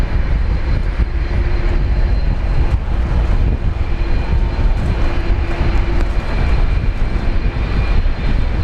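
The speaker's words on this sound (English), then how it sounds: "A330-200 off to Changi Airport." An Airbus A330-200 airliner takes off at Brisbane Airport for Changi, a loud, steady jet engine roar that fills the scene with constant broadband rumble and no voices.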